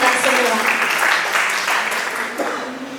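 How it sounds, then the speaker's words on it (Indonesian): Applause and cheering from the audience fill the room, broad and continuous, at the opening of a school performing-arts workshop and festival. "Berikan tepuk tangan yang meriah untuk kita semua."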